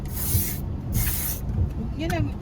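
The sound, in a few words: spray can being sprayed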